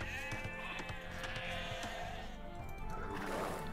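Sheep bleat in the video game Age of Empires 2, several overlapping calls steady and fairly loud over a continuous background of game sound effects and music.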